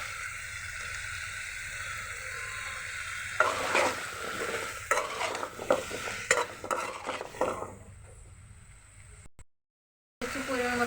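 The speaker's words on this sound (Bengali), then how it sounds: "এখন ভালো মতো আমি মশলাটা ভেজে নিব কচুরমুখির" Spices with chili powder, salt, garlic, turmeric and soybean oil frying with taro roots in a pan, a close sizzle that swells when stirring begins, with clattering scrapes, a brief silence and the sizzle returning.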